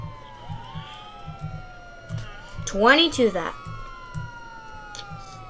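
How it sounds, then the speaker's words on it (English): A police car siren in a GTA 5 roleplay game rises and falls in sweeping wails, climbing to a sharp, loud burst of rapid yelps midway before easing back, with voices talking under it. "After that, let's get a siren check."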